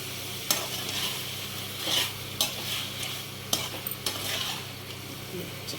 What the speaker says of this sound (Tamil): இன்னும் ஒரு 2 நிமிஷம் அதை கொஞ்சம் வதங்கணும்